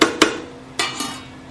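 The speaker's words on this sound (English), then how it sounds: "Let's give this a stir." A spoon stirring shrimp jambalaya rice in a pot, a few sharp metallic clanks against the pot's side followed by softer scraping, close and brief.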